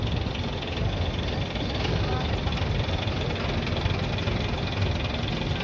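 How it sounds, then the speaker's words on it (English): Big blue and yellow buses idle at the Speightstown bus terminal in St. Peter, Barbados, a loud, constant diesel rumble with street noise that fills the whole stretch without a break. "Looking at the Speightstown bus terminal here, where the big blue and yellow buses load from."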